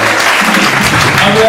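A church congregation breaks into loud, close applause, dense clapping that fills the room continuously with some voices mixed in.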